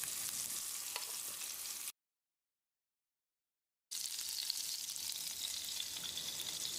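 Chicken pieces fry in hot oil in a pan for chicken jalfrezi, a steady loud sizzle that cuts out briefly to silence, then resumes just as busily.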